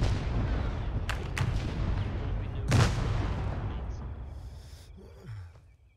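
Artillery barrage in the video game ArmA 3 S.O.G. Prairie Fire: a dense rumbling roar of distant shelling with several sharp nearby booms, fading toward the end.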